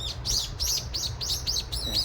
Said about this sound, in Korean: 어우, 또 새들이 많이 오네요.